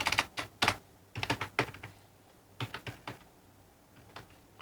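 Keystrokes on a computer keyboard while entering a password on a signup and login page, clicking in quick irregular bursts with short pauses between runs, close and fairly loud, with no talking.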